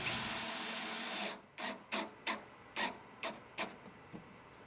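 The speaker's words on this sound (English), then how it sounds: "First I'll drill countersunk holes, and then drive in the screws all the way around." A drill and driver working into wood: a steady whine of countersinking runs for over a second, then a string of about seven short, separate bursts as screws are driven in one by one, close and fairly quiet.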